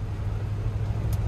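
A 1979 K10 pickup truck's engine pulls steadily under throttle on an open road, a continuous low rumble heard from close by without a break, with no one talking.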